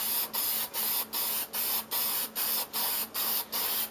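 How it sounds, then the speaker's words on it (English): Can of Krylon clear acrylic spraying in quick regular bursts, about ten short hissing sprays with brief pauses between, close and steady. "I'll just spray it down a little bit."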